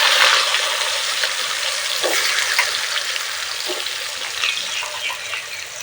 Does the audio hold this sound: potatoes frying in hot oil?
yes